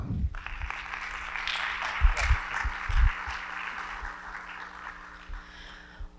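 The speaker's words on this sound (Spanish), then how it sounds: "recibámoslas con un fuerte aplauso." Moderate applause from a conference audience at a suicide-prevention talk, a steady mid-distance patter of clapping with a low hum and a few bumps beneath it, gently easing off.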